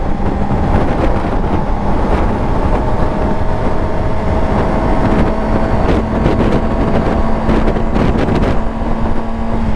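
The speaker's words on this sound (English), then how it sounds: "very windy." Strong wind buffets the microphone outdoors in a steady, loud roar lasting the whole stretch, with a low constant drone beneath and no talking.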